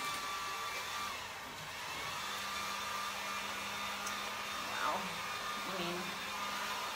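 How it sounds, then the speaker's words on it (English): Steady loud whoosh of heat guns blowing, a constant airy roar with a faint whine running through it, close by. "And dueling heat guns."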